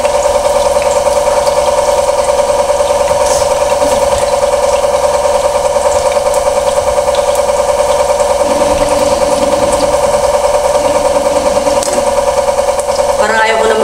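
A washing machine runs with a steady loud mechanical drone and rhythmic whirring, while a voice talks faintly underneath.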